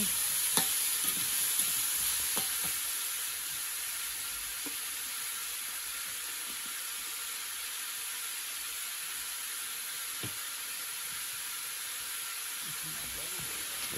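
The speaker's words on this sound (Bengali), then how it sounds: "নেড়ে নেওয়া হচ্ছে।" Malabar spinach (puishak) curry being stirred in a pan, a steady soft sizzle and hiss with a few scattered clinks of the spoon early on, fairly faint and continuous.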